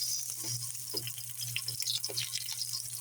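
Sliced onion sizzles in cooking oil in a home kitchen pan, a constant soft frying hiss with faint scrapes and a low background hum.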